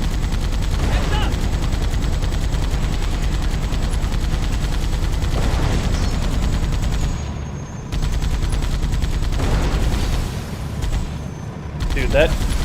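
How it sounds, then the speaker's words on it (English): Heavy cannon-like turret blasts from a Scorpion tank in Halo 2 on Metropolis, using the Halo CE turret sound, repeating over a dense, loud battle bed with continuous gunfire and a couple of brief lulls. "that turret sound, the CE turret sound, just is a total game changer for the Scorpion"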